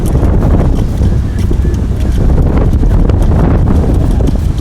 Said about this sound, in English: Brutal gust here